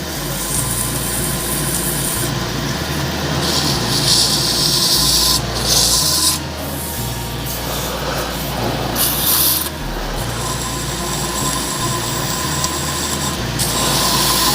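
Red resin shaving brush handle being sanded on a lathe with coarse grit, a steady loud rasping rub with a low motor hum throughout, shifting slightly as the paper moves over detailed areas, no voices.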